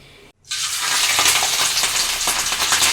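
Fish fries in hot oil for fish pickle, a loud dense crackling sizzle that bursts in after a brief gap and continues steadily, close up.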